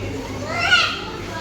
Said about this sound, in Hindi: बच्चों का शोर देखें ज़रा।